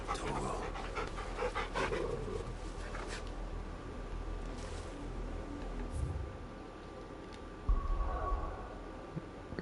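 Torgal, the dog in Final Fantasy XVI, pants steadily at close range with soft, rhythmic breaths, accompanied by a few faint thuds and a low background ambience.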